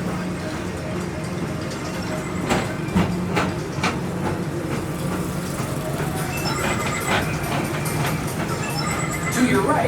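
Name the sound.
Magic Kingdom PeopleMover ride vehicle moving along its track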